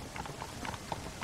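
Horses' hooves clip-clopping in the Red Dead Redemption video game, a soft, uneven run of light hoof strikes spaced through a short stretch, fairly faint against a low background hum.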